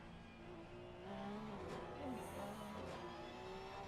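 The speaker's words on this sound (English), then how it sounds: "That Porsche always sounds great. Super high revs on a Porsche." High-revving Porsche race car engine in a sim racing game at Barcelona, faint and steady with shifting pitch as it climbs and drops through the revs, no speech.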